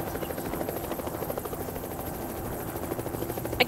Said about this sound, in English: It's another helicopter?